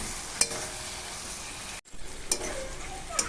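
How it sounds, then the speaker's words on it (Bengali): Potato, pointed gourd and vegetable stems sautéing with spices in oil, a constant frying hiss with light spatula clicks at intervals and a brief abrupt silence midway, no one speaking. "আলু, পটল আর ডাটা দিয়ে"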